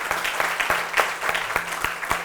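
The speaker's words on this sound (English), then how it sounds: "they deserve a round of applause because they worked hard" Round of applause from an audience at a women's tribute awards program, dense clapping with sharp individual claps standing out, steady and fairly close throughout.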